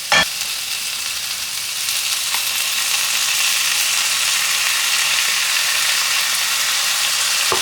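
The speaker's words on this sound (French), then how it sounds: "je vais rajouter un tout petit peu d'eau pour que ça puisse cuire un peu à la vapeur" Water splashed into a hot pan to steam-cook the food, bursting into a loud, steady sizzle that holds for several seconds, with a brief click at the start and no talking.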